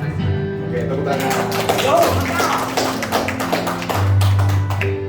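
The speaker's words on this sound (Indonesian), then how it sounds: "Oke, tepuk tangan." Audience applause at a Ramadan motivational gathering for a company team: close, busy clapping mixed with a steady hum and room noise, continuing without a break.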